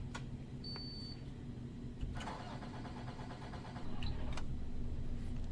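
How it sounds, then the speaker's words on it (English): A school bus engine cranks and catches, then settles into a low steady idle, faint and rumbling, with a brief tone and clicks before it starts. "so we'll turn our bus on."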